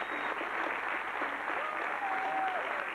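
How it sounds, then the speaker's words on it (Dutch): Steady, sustained applause from a crowd for a choir at a Christmas musical, with a faint voice or tone weaving through the clapping. "Ja, op dit applaus is speciaal voor jullie."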